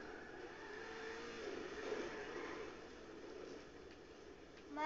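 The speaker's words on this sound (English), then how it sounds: "Just in a car." A car drives in GTA 5, its engine a quiet, steady hum that swells and eases, with a brief louder burst at the very end.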